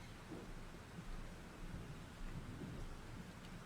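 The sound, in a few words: thunderstorm in the video game Life is Strange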